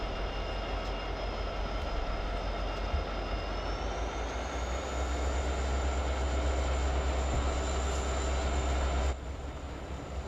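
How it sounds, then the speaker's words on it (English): Diesel locomotive engine like a Class 66 in the train simulator game Open Rails, a steady loud droning rumble with a rising tone partway through, then dropping to a lower, quieter idle near the end. "So apparently these trains have the same engine as the Class 66"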